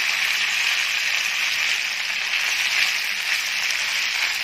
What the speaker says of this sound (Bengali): এটাকে আমি ফ্রাই করে নেবো মিডিয়াম ফ্লেমে